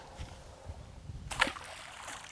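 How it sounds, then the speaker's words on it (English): A Hi-Point C9 handgun is thrown into the muddy water of a silt-bottomed bayou creek, landing with a single short splash midway through, against faint outdoor background. "throw it into the bayou"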